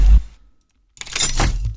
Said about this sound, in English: And then we have this other lockdown sound that sounds like this.